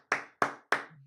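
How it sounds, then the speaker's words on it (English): Three crisp hand claps in an even rhythm, close and loud, with a faint low hum trailing after the last one. "Clap it up for Scoops."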